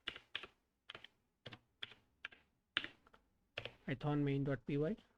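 Crisp keystrokes on a computer keyboard as a short terminal command to launch a Python Twitter bot is entered, coming in quick separate bursts with pauses between them, followed by a brief stretch of voice near the end.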